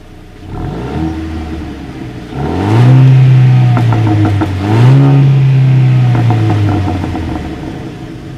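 A 2019 Jeep Renegade with a single exhaust outlet idles, then is revved twice in long, rising blips before settling back, the engine note loud and close with no one speaking.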